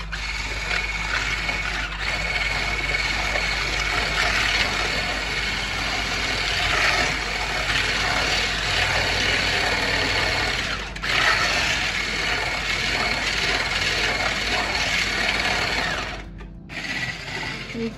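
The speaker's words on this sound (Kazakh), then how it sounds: "жақсылап миксермен араластырып аламыз" An electric hand mixer beats sugar into batter for an apple charlotte, a steady, loud motor whir running almost unbroken with only a brief dip near the end and no voices.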